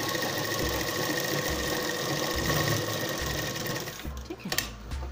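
An electric sewing machine stitches designer shorts, running in a continuous fast whirring drone for about four seconds before it stops, followed by a few clicks and short mechanical knocks.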